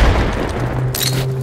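Grenade blasts and gunfire in a tactical shooter video game, a dense, loud burst of rumbling explosions and rapid shots lasting just over a second.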